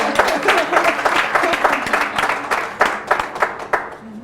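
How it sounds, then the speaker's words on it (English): An audience at an African Union summit conversation in Kigali claps in a quick burst of scattered applause that thins into a few separate claps near the end, with faint voices underneath. "I think that deserves a round of applause."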